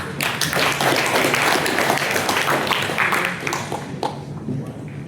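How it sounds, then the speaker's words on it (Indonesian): An audience applauds at a university ceremony inaugurating a professor, dense sustained clapping filling a hall, steady and loud before thinning toward the end. "Kita kasih aplaus"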